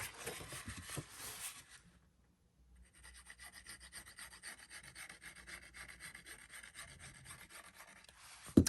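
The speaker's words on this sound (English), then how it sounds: "I'm going to open that up and then just burnish that down a little bit." Paper being burnished down by hand on a handmade Christmas loaded album, a steady close rubbing rasp that runs in short strokes, with a brief pause before it resumes and continues to the end.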